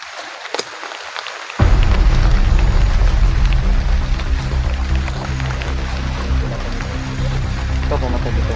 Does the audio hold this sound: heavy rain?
yes